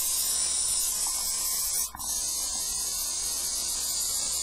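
An airbrush blows cleaner through itself, a steady high hiss running throughout with a brief dip partway when the spray cuts out momentarily.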